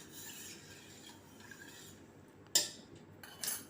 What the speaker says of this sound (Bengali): একটা চামচ দিয়ে ভালো করে দইটা দুধের মধ্যে মিশিয়ে নেবে